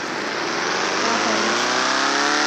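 A car engine in the Car Parking mobile driving game revs loud and steady, its pitch climbing smoothly as it accelerates, constant and close with no talk over it.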